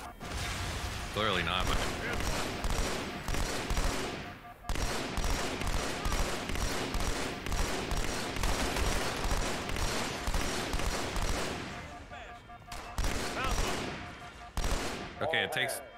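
Video game gunfire: rapid bursts of automatic shots crackle loudly almost without pause, broken by a few brief gaps, while a voice talks over the shooting.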